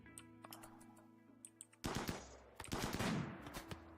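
Sniper rifle fire in the Rimworld video game, with sharp single cracks over a quiet hum, then a dense burst of rapid overlapping shots and clatter before single reports return.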